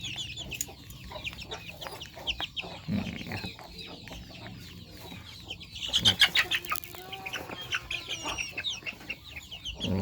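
Chicks and farm chickens clucking and peeping in a pen while the birds are fitted with wing tags, a steady run of close, overlapping calls with a louder burst of flapping and squawks partway through.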